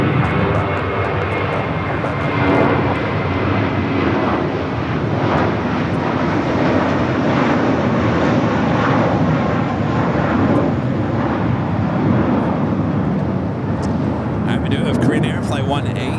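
An Airbus A380 jet being pushed back at Los Angeles airport gives a loud, continuous roar of engine noise filling the whole stretch, steady and near, with brief broadband bursts near the end.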